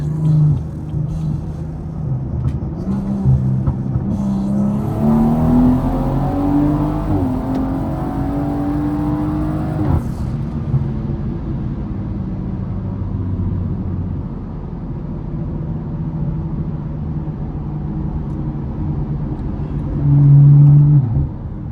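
A BMW 340i sedan on race gas revs up hard from inside the cabin, its pitch climbing steadily before easing off into a lower steady drone and road rumble.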